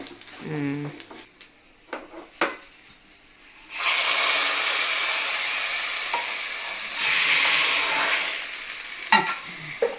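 Hot fried tempering with asafoetida is poured into gongura charu, setting off a loud sudden burst of sizzling that hisses steadily, fades slightly, then flares again; brief voices and scattered clicks come before and after.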